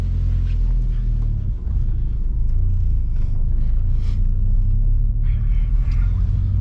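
A 2002 VW Golf IV GTI 25th Anniversary with a 216 hp engine runs steadily, a low muffled rumble heard from inside the cabin, constant and even throughout with no talk.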